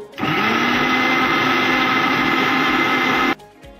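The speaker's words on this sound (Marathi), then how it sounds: "परत मिक्सरवर बारीक करू" With a little water added, a mixer grinder spins up again on coconut chutney, giving a loud, even motor whir that holds steady for a few seconds and then stops sharply.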